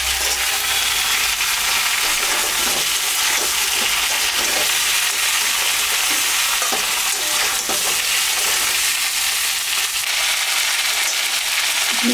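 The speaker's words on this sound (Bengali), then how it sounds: "ঝিঙ্গাটা নাড়াচাড়া করে" Ridge gourd fries in a pan with a steady, close sizzle while it is stirred, faint scrapes and clinks breaking through the constant hiss, with no one talking.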